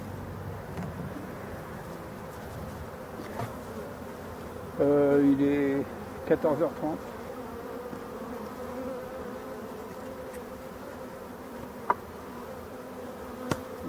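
A honeybee hive is shaken, raising a low buzzing hum that swells into a louder burst of agitated buzzing partway through, with a few knocks and a brief spoken voice.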